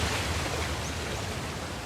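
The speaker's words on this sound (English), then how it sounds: "Another waterfall." A waterfall roars in a cutscene from Uncharted: The Lost Legacy, a steady, even wash of rushing water heard alone and fairly soft, with no voices.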